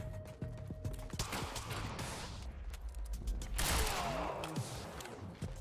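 Sharp, scattered gunshots ring out in Quantum Break during a chase, loud and punchy, mixed with clattering impacts and game effects, with no one talking.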